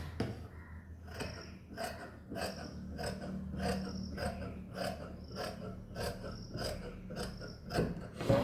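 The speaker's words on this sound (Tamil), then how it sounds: "இது கைக்கு திரும்ப நான் இதை வெட்டி எடுக்கிறேன்" Scissors cut through 60-inch fabric folded in four, giving a quiet, rhythmic series of about a dozen crisp snips at roughly even intervals, close by with no other sound.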